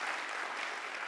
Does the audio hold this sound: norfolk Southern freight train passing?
no